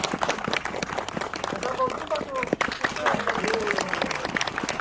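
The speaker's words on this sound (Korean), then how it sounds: "박수 한번 부탁드립니다." Scattered clapping rises from a gathering at a temple plaque-unveiling ceremony, uneven sharp claps over a murmur of crowd and a speaking voice.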